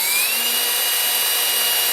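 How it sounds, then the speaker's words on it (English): A small power drill runs steadily while pre-drilling a pilot hole for tuner screws on a PRS guitar headstock, a close, continuous high whine with no pauses or talk. "then we can pre-drill for those screws"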